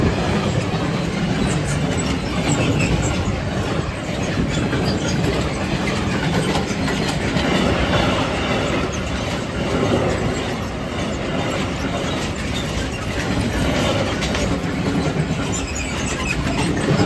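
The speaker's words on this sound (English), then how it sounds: "That was a freight train passing." A freight train passes close by near the German–Dutch border, a loud, unbroken rumble of rolling wagons with clattering wheels and occasional squeal, steady for the whole stretch with no talk.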